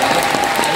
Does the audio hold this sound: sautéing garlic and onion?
no